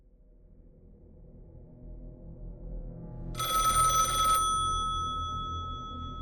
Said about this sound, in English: Kind of like an old type of phone ring.